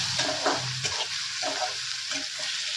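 Onions frying in a pan while a spoon stirs them, a steady close sizzle broken by several scraping stirs and knocks, with no talking.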